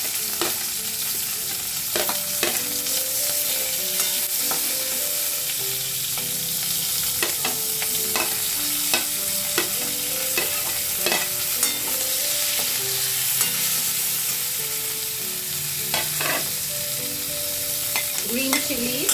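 Chopped garlic and onion sauteing in leftover oil for a mushroom chilli starter, a steady loud sizzle with repeated utensil stirring scrapes and clinks over it.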